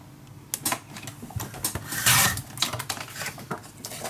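Scissors cutting down a paper pocket for a steampunk dos-a-dos mini album, a close series of irregular crisp snips and rasping paper rubs with no talking.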